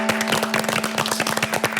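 Studio audience on a Korean TV talk show clapping together, a dense run of hand claps with steady rhythm, fairly close and full, with a faint tonal hum underneath and no voices.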